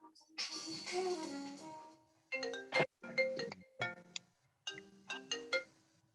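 A mobile phone ringtone goes off during a town selectboard meeting, a bright melodic tune playing in several short repeated bursts with brief gaps, moderately close and clear in an otherwise quiet room.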